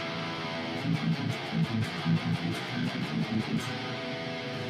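A low, heavily distorted baritone guitar riff plays in a choppy, repeating rhythm, close and moderately loud, with no speech.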